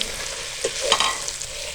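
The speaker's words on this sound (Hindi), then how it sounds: "सब्जी को हमने ज़्यादा पकाने के बाद 2 मिनट हम इसको फ्राई करेंगे" Mixed vegetables with carrots fry in a pan, with a soft background sizzle broken by a few brief scraping stirs near the middle.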